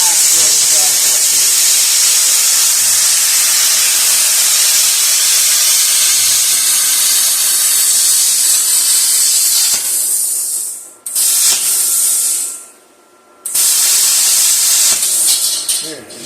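A VEVOR plasma cutter slices through 3/4 inch steel at 6 amps, a loud steady hiss that runs close and continuous, breaking off twice briefly before resuming.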